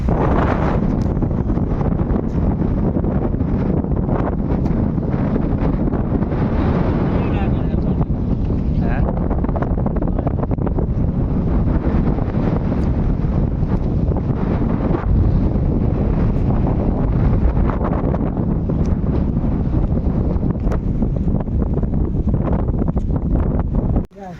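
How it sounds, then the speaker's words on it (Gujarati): Strong, gusty wind buffets the microphone on a hilltop track below the Chamunda temple at Parnera, a loud, continuous blustery roar that runs for the whole stretch. "પવન બહુ ભારે છે"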